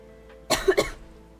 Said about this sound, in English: I don't know why I just coughed.